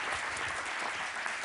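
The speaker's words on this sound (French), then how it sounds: "Vous pouvez les applaudir." Audience applause from a crowd at a French public event covering the InSight Mars landing, steady dense clapping filling the whole moment without a voice over it.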